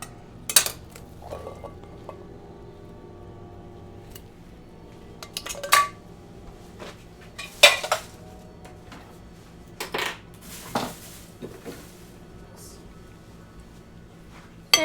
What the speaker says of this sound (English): Toss in black beans.